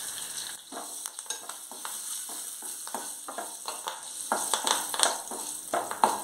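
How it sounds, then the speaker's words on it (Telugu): A tempering of curry leaves and two green chillies crackles in hot oil for mango rasam, a constant near sizzle with frequent ladle scrapes and taps against the pan, growing busier toward the end. "ఇక్కడ పోపు వేగిపోయింది కదా"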